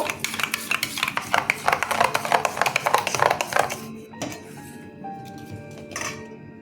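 Flour, sugar and baking soda being stirred together in a bowl for butter naan dough, with quick repeated scraping and clinking strokes for about four seconds, then a few softer knocks and brief pauses.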